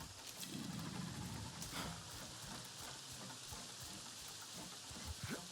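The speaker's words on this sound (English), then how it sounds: "Now it's starting to rain." Rain falls in a forest in the video game Avatar Frontiers of Pandora, a soft, even patter on foliage with scattered drop ticks, faint and steady throughout with no voices.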